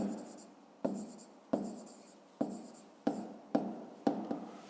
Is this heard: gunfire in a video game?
no